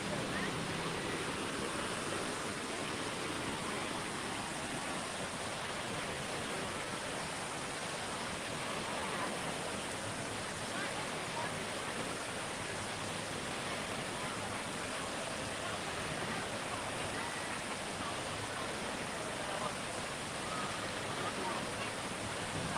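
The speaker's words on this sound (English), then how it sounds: "I can sleep to the sound of these waves." Steady, even wash of waves in the wave pool at Volcano Bay water park, Universal Orlando, at sunset, a continuous broadband roar lasting throughout, fairly soft and without breaks.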